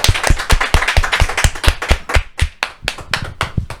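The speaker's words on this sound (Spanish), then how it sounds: "lo despedimos con un fuerte aplauso" A small audience claps at a Christmas special talk show, a brisk run of close, sharp hand claps with a quick uneven rhythm for a few seconds and no speech over it.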